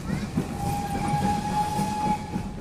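An overnight passenger train pulling out of Glasgow gives a steady, close rolling rumble, with a sustained whining tone running through the middle of it.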